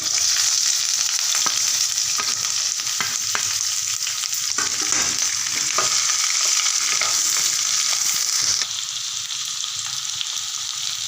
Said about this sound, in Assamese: আৰু ইয়াতে মই পিঁয়াজখিনি দি ভালদৰে ভাজি ল'ম।